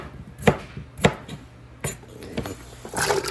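A knife chops potatoes into 1-inch cubes on a board, with several sharp isolated knocks spaced irregularly, then a quicker cluster of cuts at the end.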